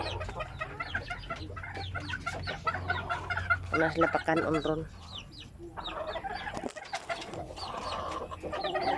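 Chickens clucking in a backyard flock, with short repeated calls scattered over steady background noise and a person speaking nearby.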